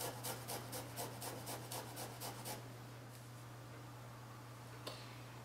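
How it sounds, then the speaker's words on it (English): A knob of fresh ginger rasped against a grater in quick, even strokes, about ten close, quiet scrapes in steady rhythm before the motion stops and near-silence follows. "take a nice knob of conventional ginger, and we're going to grate it"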